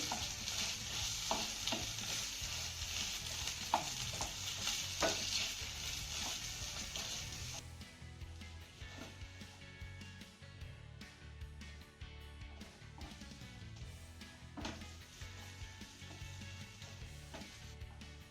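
Ginger paste sautés in hot ghee for a couple of minutes, a steady loud sizzle with repeated scraping stirs, the bright hiss easing partway through and then swelling again near the end.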